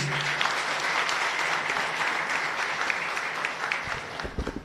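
Congregation applauding inside San Miguel chapel in Areguá during a Catholic Mass, a dense, steady burst of clapping that fills the room and begins to thin out near the end.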